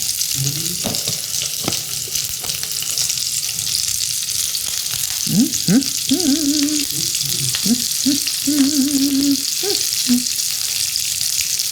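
Whole onion rings sizzle loudly and continuously in bacon fat in a Staub cast iron skillet, a steady close-up frying hiss with occasional scraping stirs and brief squeaky tones.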